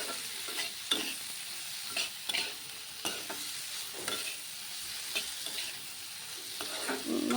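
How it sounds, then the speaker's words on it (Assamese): Banana flower (koldil) fry with ginger-garlic paste and garam masala stirred in a pan, a continuous sizzle broken by regular spoon scrapes and taps, close and moderately quiet. "মই এতিয়া লৰাই দিছোঁ।"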